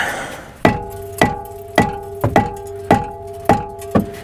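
Rubber mallet blows strike a brake rotor on a 2014-2018 Jeep Cherokee KL, about eight sharp metallic knocks at a steady, roughly half-second rhythm, each leaving a brief ringing tone.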